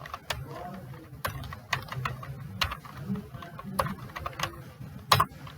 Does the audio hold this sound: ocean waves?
no